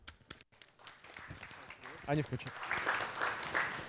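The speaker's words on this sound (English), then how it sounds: "Round of applause." An audience at a Ukrainian tech startup showcase gives a round of applause, scattered claps building into fuller clapping, mixed with voices and some movement noise.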